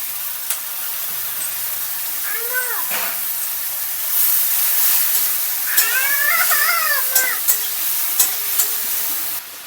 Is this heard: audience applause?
no